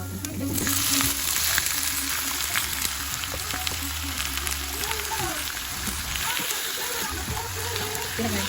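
Meat frying in hot oil with sautéed garlic and onion, a steady close sizzle and crackle with occasional stirring scrapes, home cooking for a family birthday meal, with a voice speaking over it at times.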